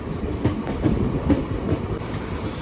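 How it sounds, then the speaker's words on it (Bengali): Sealdah–Lalgola Passenger train pulling out of Murshidabad Junction in rain, a rolling rumble of wheels with rhythmic clickety-clack over rail joints repeating every half second or so, steady and fairly loud from on board. "মুর্শিদাবাদ জংশনের 2 নম্বর প্ল্যাটফর্ম থেকে শিয়ালদা লালগোলা প্যাসেঞ্জার ছেড়ে দিল"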